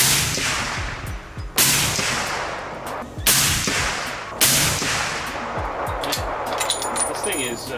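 A Howa rifle chambered in 300 Win Mag fired at a range, three loud sharp gunshots spaced a couple of seconds apart, each with a long rolling echo fading behind it.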